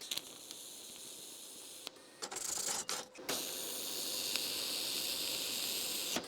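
Electric welding at a workbench, laying down beads: a steady crackling hiss broken by a few short pauses where the arc stops and restarts, fairly quiet and alone.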